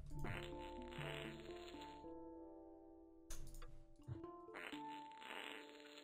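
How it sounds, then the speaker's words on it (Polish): Cartoonish fart sound effects from the Rusty Lake: Hotel puzzle game play in a few drawn-out, buzzy bursts separated by brief pauses, with game music underneath. "Odgłosy pierdzenia."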